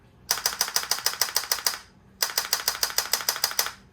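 GUN4IR light gun converted from an Aimtrak, its solenoid recoil hammering on auto fire in two rapid bursts of about a dozen sharp, evenly spaced clacks each, close and loud, with no talk.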